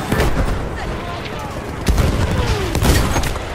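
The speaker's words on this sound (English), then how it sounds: "air burst mortar" Air burst mortar explosions in a video game amid steady gunfire, loud close booms and crackling shots packed together, with a voice talking over the battle.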